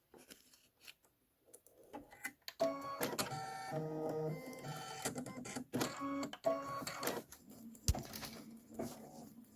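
An embroidery machine stitches an orange candy corn flower fill on a Kimberbell bench pillow block, a rapid mechanical whirring and tapping that starts after a couple of seconds and runs steadily with brief pauses.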